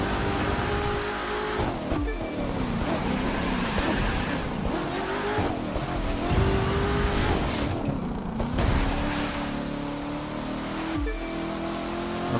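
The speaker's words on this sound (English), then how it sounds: "Now I can use the nitrous" Racing car in The Crew 2 kicking in a nitrous boost, engine roaring loudly and continuously with rising and falling revs, tire squeals and skids mixed into the off-road driving.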